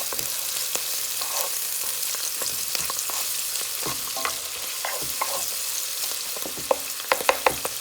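Garlic sizzles in a pan while it is stirred, the steady frying crackle broken by repeated scraping strokes and a few sharp utensil taps toward the end.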